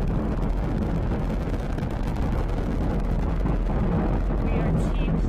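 SpaceX Falcon 9 rocket with nine Merlin engines on the first stage lifting off on a crewed Dragon mission, a loud, continuous broadband roar with deep low rumble and crackle, steady throughout.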